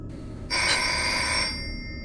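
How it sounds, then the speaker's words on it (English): A telephone rings once, a bright, moderately loud electronic bell lasting about a second against quiet background hum. "The phone rings,"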